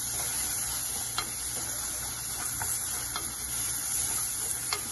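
Tomato paste with onion sizzling as it is sautéed for chicken curry, a steady soft crackle with a few small pops and light stirring taps and no voices.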